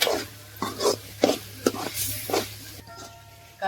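Chicken fry with chilli powder and yogurt is stirred in a pan, a spatula scraping in a steady rhythm of about six strokes over a continuous sizzling hiss, close and fairly loud.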